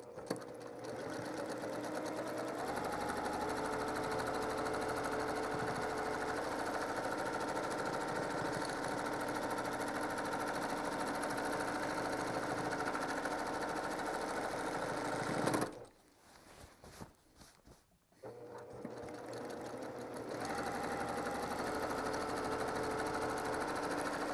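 Sewing machine running fast for free-motion quilting, a steady close mechanical whir with a rapid stitching rattle that stops briefly near the end, then starts up again.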